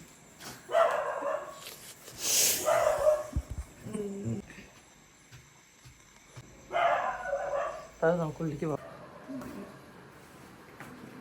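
Dogs bark in a few scattered bursts at a house, moderately near, with people talking in between and faint household sounds.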